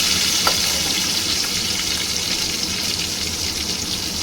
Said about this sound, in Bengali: কুচিয়ে রাখা টমেটোটা নেড়ে করে নেব